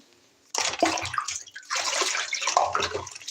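Baby dolls are washed in water, with splashing and sloshing that start suddenly, break off briefly and then continue, close by and fairly quiet.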